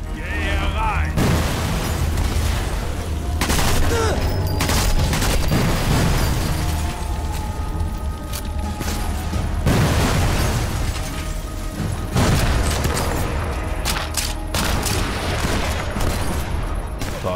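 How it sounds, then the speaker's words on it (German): Explosions boom repeatedly during Sniper Elite 4 gameplay, with heavy blasts and crackling debris layered over continuous game noise while someone comments in German. "Da explodiert alles."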